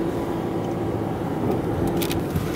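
Car cruising along a road on a drive home, a steady close engine and road-noise hum filling the cabin with a few faint clicks, no talking.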